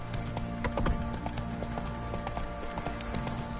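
Horse hooves clip-clop in a steady walking rhythm in The Witcher 3: Wild Hunt, even and close, with a low ambient drone behind them and no talk.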